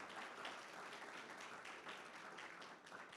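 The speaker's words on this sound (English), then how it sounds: "Give them a hand clap." Church congregation applauding the winner of a corn toss, a steady wash of clapping from many hands, heard from some distance and fairly faint.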